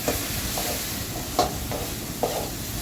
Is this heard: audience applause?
no